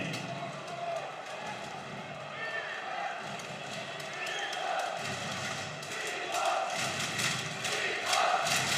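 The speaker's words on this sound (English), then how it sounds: "The crowd chant Primož, Primož for Primož Post, the goalkeeper" A handball arena crowd at a men's EHF Cup final chants a goalkeeper's name in a steady, rising roar, with a commentator talking over the noise throughout.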